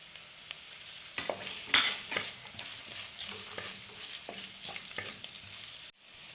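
Fennel seeds frying in a pan with chopped ginger and garlic, a steady close sizzle broken by irregular stirring scrapes and taps, with no voices.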